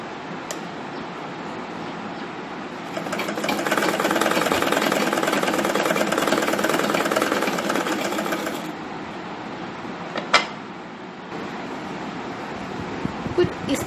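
A sewing machine stitches a zip onto a sling bag made from waste material, running in a steady, close mechanical whir for several seconds before stopping, with a couple of sharp clicks afterward.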